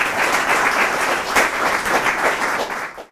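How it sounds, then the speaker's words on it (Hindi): Studio audience clapping on a News18 Urdu discussion programme, a loud close patter of hands with slight swells, tapering off at the end. "आप लोग तालियां बजा के इनका खैर मदद करें।"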